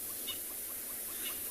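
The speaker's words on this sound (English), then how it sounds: "Those are all crested francolins alarming." Crested francolins give a series of faint, distant alarm calls on an open South African safari, a few short repeated chirps standing out over steady background hiss and a low hum.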